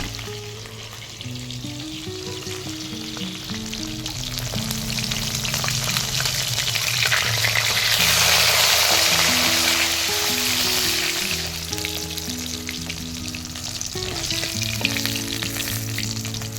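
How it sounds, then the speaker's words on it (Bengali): Pieces of pond-caught rohu fish, salted and turmeric-coated, fry in hot mustard oil in a wok, a loud continuous crackling sizzle that swells toward the middle and stays close and unbroken, with no voices. "মাছগুলো লাল লাল করে ভাজা হয়ে গেছে"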